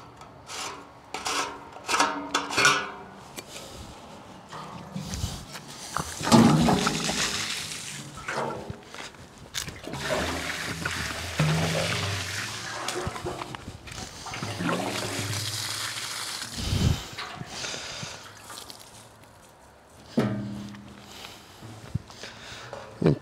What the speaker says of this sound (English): Might as well water some bushes while I'm at it, so we're not straight up wasting water.